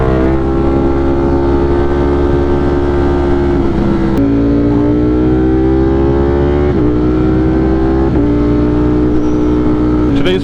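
Ducati Streetfighter motorcycle on a relaxed ride to work, loud continuous engine drone with harmonic tones rising and dropping through several gear shifts, steady wind rush underneath, close and dominant for the whole stretch.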